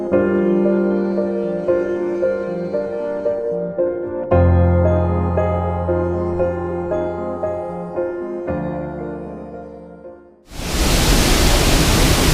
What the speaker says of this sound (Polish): Wodospad z drugiej strony